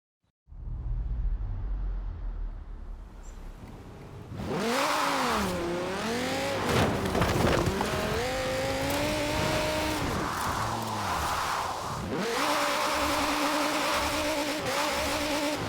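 A car drifts in Forza Horizon 4, its engine revving hard while tires squeal in long, wavering howls that rise and fall through repeated slides, loud and close throughout.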